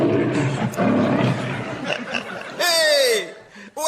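A comedy panel show's lion roar sound effect rises through laughter and chatter, with one loud, sweeping, descending roar near the end of the clip.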